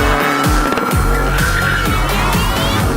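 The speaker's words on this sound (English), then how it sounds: "It's not very often you have full wheel spin and you are dragged backwards" A race car spins its wheels at full throttle while an excavator drags it backwards, a loud continuous engine roar with tire squeal and repeated rising rev sweeps, close and unbroken.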